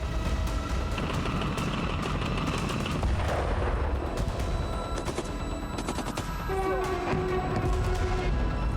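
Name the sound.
rocket launcher attack on military positions, war footage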